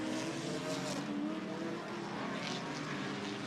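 GT4 European Series race cars slowing for a restart at Hockenheim, a steady blended engine drone from a pack of cars at middle distance with no clear passes, and nobody talking.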